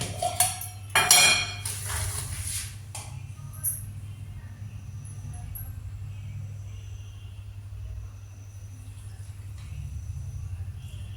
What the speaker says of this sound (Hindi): फ्रेंड्स अब मैं इस घी को डब्बे में छान लूँगी